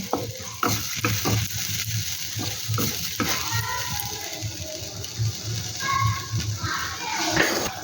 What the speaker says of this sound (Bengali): ভালো করে নেড়ে নেব, হালকা আঁচে ভালো করে নেড়ে নেব।